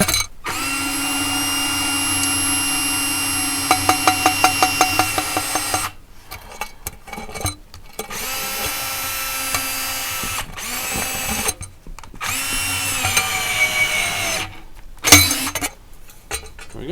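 A power drill fitted with a body work tool, whining steadily in several extended runs broken by short pauses, with some rapid clicking in the first stretch.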